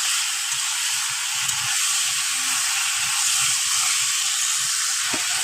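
Bay leaf, dry chilli, whole cumin, cardamom and garam masala frying in hot mustard oil, a loud, continuous close-up sizzle and hiss holding steady throughout with faint stirring underneath.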